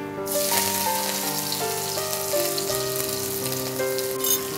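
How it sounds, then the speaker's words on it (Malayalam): Finely chopped celery fries in very hot oil, a dense, bright sizzle that starts abruptly and crackles steadily throughout, close and fairly loud with no talk. "എണ്ണ നല്ല ചൂടാണ്. അതിലേക്ക് ചെറുതായി അരിഞ്ഞ സെലറി"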